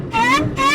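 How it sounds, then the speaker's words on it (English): A supercharged Porsche being driven on a frozen lake, heard from inside the cabin: a loud, close supercharger whine rises in pitch in two quick surges. "it sounds like the supercharger is literally right behind your head"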